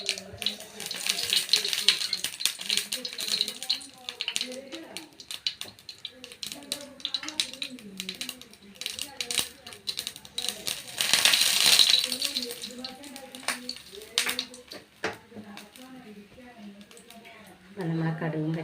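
Mustard seeds and curry leaves splutter and crackle in a little hot oil for a homestyle Kerala curry, with a sizzling burst partway through under nearly continuous talking.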